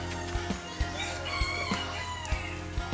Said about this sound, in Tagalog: So andito po tayo sa kanilang mga alagang mga ibon.